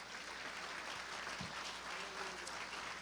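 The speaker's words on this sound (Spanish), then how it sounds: "Un aplauso al Señor." Congregation applauding in a church, a steady dense clapping from many hands that continues evenly throughout.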